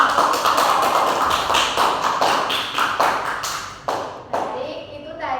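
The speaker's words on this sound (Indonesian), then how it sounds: "berikan tepuk tangan dulu." A class of children in a combined-grade classroom claps together, producing a fairly loud run of sharp taps that gradually thins out toward the end.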